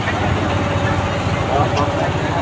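A boat engine drones steadily and loudly on a river between bridges, a constant low rumble with no break in it.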